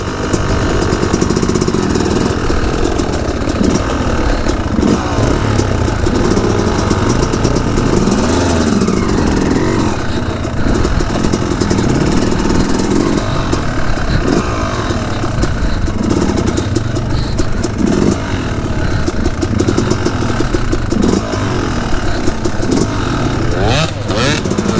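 Dirt bike ridden by a learner, its engine buzzing and revving in uneven surges as the throttle is opened and eased, close and continuous, with voices shouting encouragement over it.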